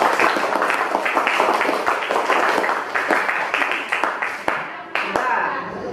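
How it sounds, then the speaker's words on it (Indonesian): A classroom of students claps for all the presentation groups: dense, steady applause fills the room throughout, with a few sharper individual claps near the end as it thins out. "Tepuk tangan untuk semua kelompok."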